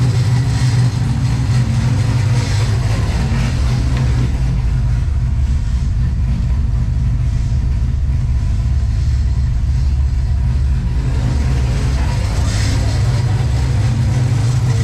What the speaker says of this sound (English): That's an exhaust jangle, bud.